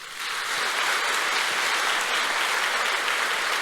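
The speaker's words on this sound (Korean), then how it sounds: "지금 끝나기 전에 박수 한번 쳐주세요" A church congregation applauding a teacher, a dense, even wash of many hands clapping in a large hall that swells in quickly and holds steady throughout.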